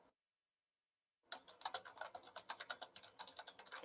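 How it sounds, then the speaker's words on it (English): Rapid typing on a computer keyboard during a tabletop game session, a brief tap, a pause, then a steady run of quiet, close, crisp keystrokes with no one talking. "Sorry, I'm typing."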